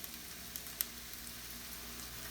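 Red pepper tipped into a pan of onions already frying, giving a faint, steady sizzle with a couple of small pops and no talking.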